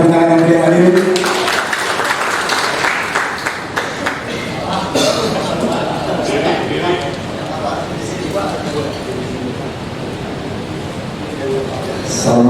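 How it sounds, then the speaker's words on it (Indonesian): A crowd claps loudly at the start of a product launch and press conference in Jakarta, the applause soon thinning into a noisy room murmur with voices underneath. "Kita berikan tepuk tangan yang beri hadir."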